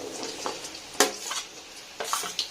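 Pork and pumpkin stirred in a frying pan: a spatula scrapes and clinks against the pan in a few distinct strokes over a soft, steady sizzle, close and without talk.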